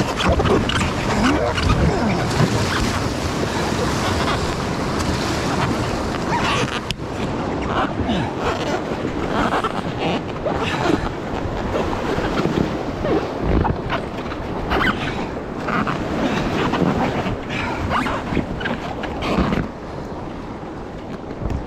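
Rushing river rapids on the Cardinal River during a solo paddle, a loud continuous broadband wash of churning water and wind noise throughout, easing slightly at the very end.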